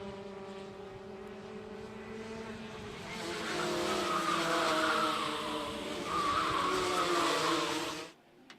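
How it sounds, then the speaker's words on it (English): High-performance go-karts race past on a track, their engines buzzing and whining as they approach, swelling louder mid-clip, then fading away abruptly, no voices. "Now, we're going to look at some high-performance go-karts."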